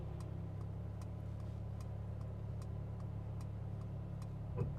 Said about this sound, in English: So it turned on my blinker again.